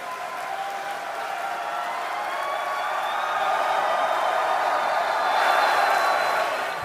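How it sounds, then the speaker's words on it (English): Steady applause from a crowd during a SpaceX launch broadcast, a dense continuous wash of clapping that swells slightly toward the end. "As you hear the applause from the audience"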